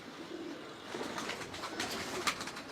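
Soft, low cooing of Teddy pigeons on a rooftop rises and falls over a steady background hiss, with a brief sharp click near the end.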